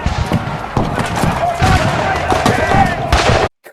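Union rifle volleys and cannon fire in a Civil War battle effect crackle and thump continuously, loud and dense, with a narrator speaking over the barrage before it cuts off abruptly.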